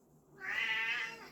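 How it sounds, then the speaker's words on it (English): A single drawn-out cat meow, clear and fairly close, rising then fading over about a second with no talking. "Oh, that's my cat."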